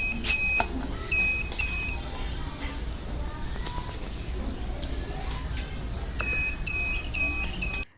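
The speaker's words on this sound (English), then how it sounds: "here is water and that's why it's buzzing and vibrating." An IoT actuator sitting in water gives repeated sets of short, high electronic beeps and buzzes in bursts at the start and end, fairly loud, with a softer stretch of buzzing between them.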